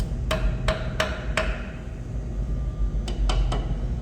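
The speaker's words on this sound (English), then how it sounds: "just tap it with a hammer" A hammer taps a metal dowel into a BMW M10 engine block during cylinder head assembly, seven crisp ringing taps in two groups over steady background hum.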